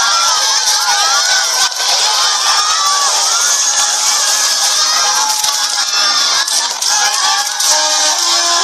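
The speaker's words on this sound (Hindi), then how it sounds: "ये भीड़, ये शोर, ये खेल के पहले के कुछ पल हर खिलाड़ी के लिए बहुत एक्साइटिंग होते हैं।" Dense, loud crowd at a tennis championship final, shouting and cheering in a continuous excited roar with no letup.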